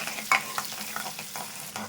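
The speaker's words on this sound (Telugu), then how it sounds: "ఇప్పుడు మనం ఆనియన్స్ వేసేద్దాం. ఇది మనకు కొద్దిగా ఫ్రై అయ్యేదాకా గోల్డెన్ కలర్ కొద్దిగా రావాలండి." Onions fry in a pan for poha upma, a close sizzle with stirring scrapes and small crackles, heard alone without talking.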